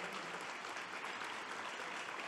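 Steady, dense applause from a large audience at a papal general audience catechesis, sustained throughout with no voices breaking through.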